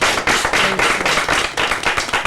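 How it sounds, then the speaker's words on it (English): A round of applause for doctors at a Yale physicians' program on gynecologic cancers, with loud, close clapping in rapid, uneven bursts and no talking. "Please give them a round of applause."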